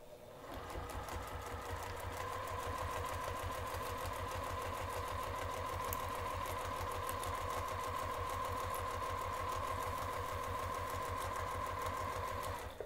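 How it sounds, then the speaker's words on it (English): A sewing machine runs steadily for the whole stretch, its rapid mechanical stitching rhythm loud and close with a constant whirring hum. "We're going to take this over to the sewing machine and sew the pinned edge"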